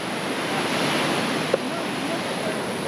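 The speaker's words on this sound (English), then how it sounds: "we're watching the surfers take the big waves." Big ocean surf breaking on a beach on the Osa Peninsula, Costa Rica, with surfers out on the waves; a steady, loud wash of rolling water with wind noise and no clear individual crashes.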